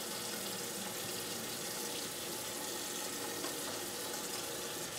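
Tap water runs steadily into a sink during hand washing, giving an even, continuous rushing stream that stays close and moderately quiet throughout, with no talk over it.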